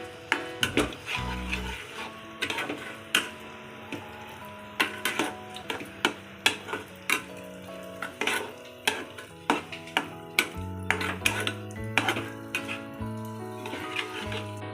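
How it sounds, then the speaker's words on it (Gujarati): A spoon mixes cashews, cardamom powder and nutmeg powder into a dry fruit chikki mixture in a pan, with repeated sticky stirring taps and scrapes in an uneven rhythm over faint background tones. "કાજુ એલચી પાવડર જાયફળ પાવડર હવે આ બધું આપણે મિક્સ કરી દેવાનું"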